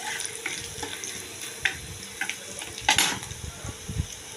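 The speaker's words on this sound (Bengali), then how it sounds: "রসুনটা একটুখানি ভাজা ভাজা হবে।" Crushed garlic frying in oil with dried chili in a home kitchen pan, a close sizzle broken by repeated clinks and scrapes of a spoon against the pan.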